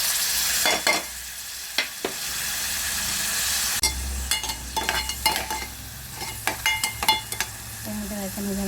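Tomatoes frying with already-browned onion in a pan for a hotel-style liver masala, a steady sizzle broken by repeated scraping stirs and clatters, close and fairly loud.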